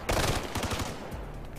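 Automatic gunfire in the Ghost Recon video game, a loud close burst of rapid rounds followed by a quieter tail, without talk.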